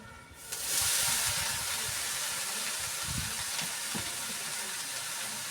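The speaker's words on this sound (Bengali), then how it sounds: "এখানে দেখো ডাল বসিয়ে দিয়েছি প্রেসারে" A steady, loud hiss of escaping steam from a pressure cooker cooking lentils rises after a brief quiet start and holds on continuously, with faint clatter underneath.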